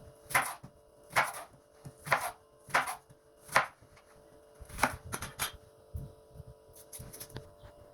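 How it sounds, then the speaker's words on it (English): A knife chops onion and mushrooms on a board during practical cooking, giving a dozen or so crisp, evenly spaced cuts that sound soft and fairly close in a quiet room. "I'll be cutting my onion and mushrooms"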